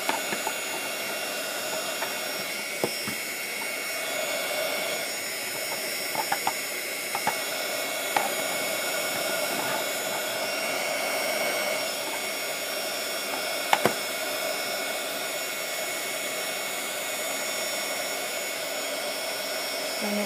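Hair dryer blowing steadily on burlap flowers being dried, a continuous close airy roar with faint clicks and handling noises throughout.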